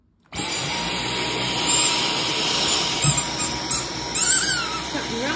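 A steady, loud vacuum cleaner drone with high-pitched squeaky whines from a faulty vacuum rising over it, continuous from start to end.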